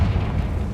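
The Confringo fire-blast spell in Hogwarts Legacy bursts as a dense, low, rumbling explosion that fills the whole short moment at steady loudness, close and without any voice over it.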